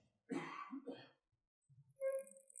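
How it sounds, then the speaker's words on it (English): A close, breathy cough burst followed by a shorter second one, then a brief pause before a faint tonal sound enters. "As our Canadian gives you the corona cough back there spreading"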